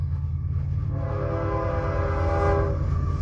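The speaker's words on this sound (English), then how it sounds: "There's a train going by." A train passing nearby, a loud rumbling roll with a sustained horn-like tonal blare swelling and fading over a few seconds, heard alone without talk.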